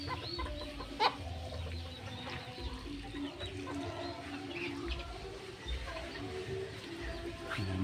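Bantam hens cluck in short, irregular bursts close by, with a few sharper calls rising over a busy farmyard background.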